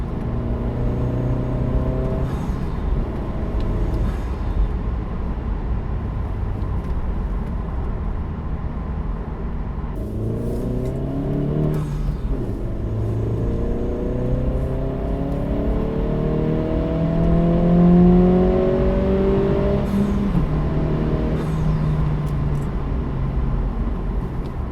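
An Acura Integra DE4 engine fitted with a PRL Cobra intake pulls hard through the gears, its rising revs broken by clear pauses where it shifts, heard continuously from inside the car with no talk.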